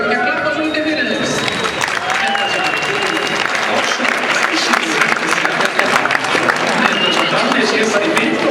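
An audience claps at an Icelandic stallion show, a steady full round of applause with scattered crowd voices mixed in under the clapping.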